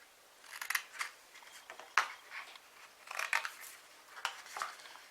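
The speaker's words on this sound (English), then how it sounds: "I'm going to change to my small scissors only because it's easier, and I'm going to cut away this small" Small scissors snip through card stock in a run of crisp, close cuts, several quick clusters of snips with short pauses between them, with no talking.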